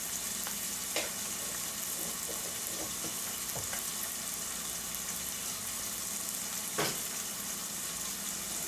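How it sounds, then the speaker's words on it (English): Beans frying in a pot with salt while preparing Haitian rice, a steady close sizzle with occasional stirring clicks and scrapes, no talking. "You let your beans fry a little bit."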